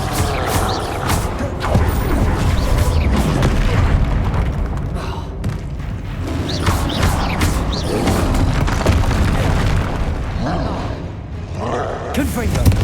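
Repeated Confringo explosive spells in Hogwarts Legacy combat go off amid a dense, continuous din of heavy booms, thuds and crashing debris, with shouting voices layered over the chaos.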